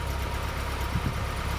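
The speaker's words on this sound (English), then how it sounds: "it just sounds like an exhaust" A 1971 Datsun 510 fitted with a Fujitsubo exhaust idles steadily nearby, a constant low rumble with slight uneven pulsing.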